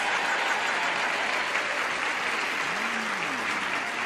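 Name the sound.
studio audience cheering and applauding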